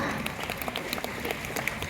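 A dense, steady wash of audience clapping at a Thai news event, sustained and fairly loud throughout with no breaks.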